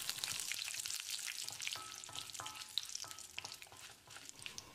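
Urad dal, chana dal, curry leaves and dried red chilies crackle and spit in hot oil, a busy close sizzle with scattered sharp pops and light stirring.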